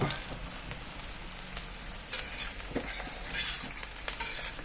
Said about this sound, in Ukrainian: Так, цибуля і морква жариться.